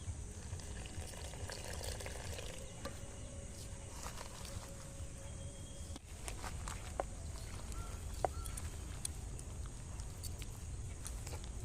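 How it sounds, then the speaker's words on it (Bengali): Water poured into flour that has been mixed with oil and salt, making dough for mughlai: soft, close sloshing and dribbling runs throughout, with a few light knocks and taps from the bowl along the way. "এবার আমি জল দিয়ে দিচ্ছি।"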